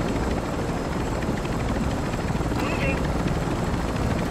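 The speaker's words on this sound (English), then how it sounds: "If you don't need that heli anymore, just drop it or give it to them." Helicopter in the video game Warzone 3, a steady droning rotor rumble running throughout at constant loudness, with players talking over it.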